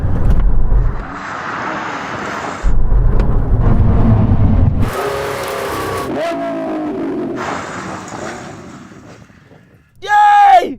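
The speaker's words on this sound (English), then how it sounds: "Now we're going to have a brake test from 100 miles an hour" A Lamborghini Revuelto, a Ferrari SF90 and a Porsche 918 brake hard from 100 mph, with loud engine roar, a pass-by and whining, falling tones as the cars slow, ending in a sharp squeal.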